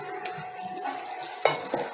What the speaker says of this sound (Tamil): ஸோ பச்சை மிளகாய் ஆனியன் சேர்த்து நல்லா வதக்கி விடுங்க.